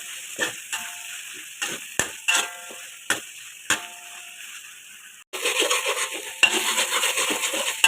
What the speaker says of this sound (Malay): tumis cili sampai naik minyak